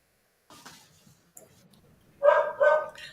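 Dog barking two sharp, fairly loud barks close together near the end, after a few quieter yips and rustles in an otherwise quiet room.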